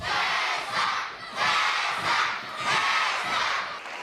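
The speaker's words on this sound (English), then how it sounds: "Had a lot of kids making a lot of noise." A large crowd of children at a school shouting and cheering together, loud and continuous with swelling bursts throughout.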